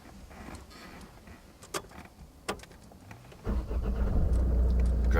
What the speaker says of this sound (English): make sure the car's in neutral and start your engine for me for a second.